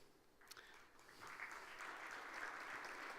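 A conference audience at a high-level urban tourism summit panel gives applause that begins faintly and swells into a steady, moderately distant wash of many hands clapping, continuing to the end.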